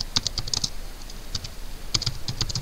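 Quick, light clicks of typing on a computer keyboard come in short irregular bursts with brief pauses, close and fairly quiet, with no voice.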